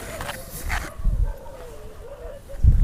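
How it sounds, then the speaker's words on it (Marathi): A farm dog barks and yips in short bursts at close range, agitated at someone arriving at the house. "आमच्या कुत्र्याचं कालवा असतो बघा ऐकायला."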